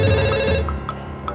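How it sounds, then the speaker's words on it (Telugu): A telephone rings loudly with steady repeating tones for about a second, then fades to quieter intermittent chirps. "అదంత గట్టిగా మోగుతుంటే వినపట్లేదా?"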